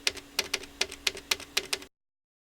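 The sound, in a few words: tapping enter key on Axe-Fx III front panel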